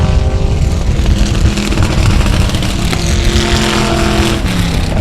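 Several race cars battle for second place on the South Texas Speedway track, their engines a dense, loud, continuous roar with overlapping revving tones and no talking.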